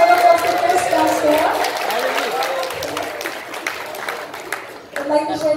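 A live Christmas concert audience applauds for a singer's son. The clapping is moderate and scattered, with cheers mixed in, and it rises again briefly near the end while voices carry over it.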